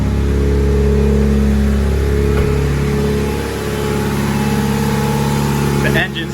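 Mitsubishi Evo engine after a head stud install, a loud close idle with a fuller rev that swells and then settles back, ending in a brief clatter.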